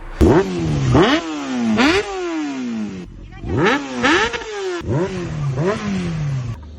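Motorcycle engines, on a ride involving a Honda CBR600F4i and an Indian Scout 1200, rev up repeatedly: four rising throttle blips with falling returns, close and loud, with voices faintly under the engine.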